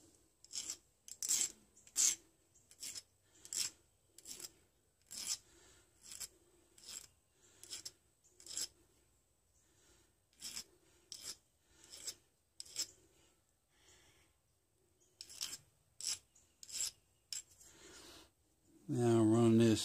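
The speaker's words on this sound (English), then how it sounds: "Gonna file a little bit." A hand file scrapes metal during an off-grid log cabin build, in a long series of short, rhythmic rasping strokes with brief pauses, close and fairly quiet.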